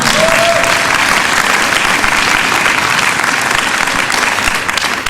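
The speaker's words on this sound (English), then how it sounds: "Yes, you can applaud if you would like." An audience at a talk on overturning sodomy laws bursts into loud, dense applause, a steady wash of clapping that holds for several seconds and eases slightly at the end.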